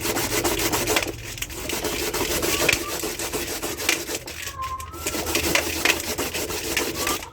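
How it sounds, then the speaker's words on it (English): Coconut flesh scraped on a local hand grater, a steady gritty rubbing rasp that carries close and loud for several seconds with brief pauses between strokes. "if you grate it with a local grater like this, it will bring out more milk"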